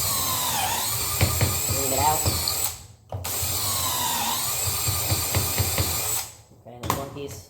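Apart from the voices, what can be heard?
drill drilling pocket holes in wood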